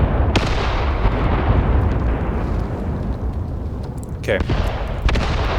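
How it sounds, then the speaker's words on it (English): Mortar fire in the wartime strategy game Graviteam Tactics Mius, heavy booming blasts with rumbling aftermath, one sharp thump early and another burst later, while a voice briefly speaks. "The mortars will keep shooting."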